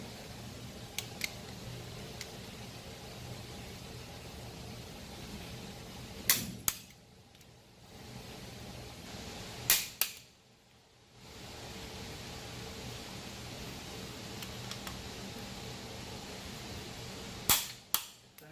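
A torque wrench gives sharp, close clicks at a few separate moments while bolts are tightened to 32 foot-pounds, over a steady background hiss.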